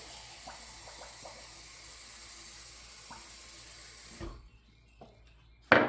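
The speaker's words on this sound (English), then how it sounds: "as soon as this water is hot, I'm going to add it to this cup" Hot water pours into a cup holding saffron, turmeric and cinnamon for tea. It makes a faint, steady hiss for about four seconds, stops abruptly, and ends with a short clink.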